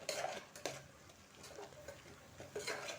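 Masala frying in oil in a pan for methi bath, stirred with a spoon that scrapes and clinks against the metal over a soft sizzle, with a few louder knocks of the utensil.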